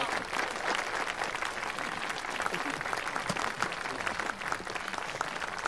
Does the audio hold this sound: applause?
yes